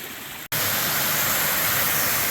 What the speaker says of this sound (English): There's a waterfall coming down the mountain